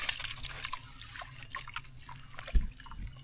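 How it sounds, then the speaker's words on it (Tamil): Tamarind water for a shallot and drumstick-leaf curry is strained, giving soft, close trickles and small drips that end with a brief slosh. "இப்போ வந்து புளி கரைசி வடிகட்டிக்கலாம்"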